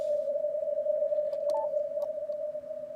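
A steady CW Morse tone from a Yaesu FTdx5000MP receiver with digital noise reduction switched off, a single sustained note over a hiss of band noise with a few faint clicks and blips.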